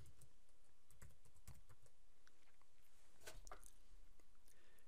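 Someone types on a computer keyboard while entering a block attribute in AutoCAD. Quiet, close keystrokes come in short irregular bursts with a few louder key hits, and no talking over them.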